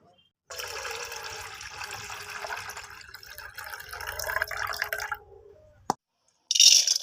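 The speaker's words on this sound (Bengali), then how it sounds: "এই পাউডারটাকে ভালো করে ধুয়ে নিতে হয়" Water runs and splashes steadily for about five seconds as lentil powder is rinsed, with a few drips and a brief pause before a final short burst of running water.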